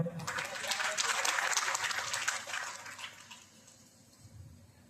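Audience at a plan meeting in Gwalior claps in a short burst of applause that peaks and fades within a few seconds, with faint voices underneath.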